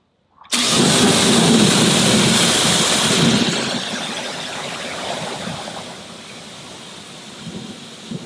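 A hose sprays water over a car being washed. A loud, steady broadband hiss starts abruptly and eases off to a softer continuous rush after a few seconds.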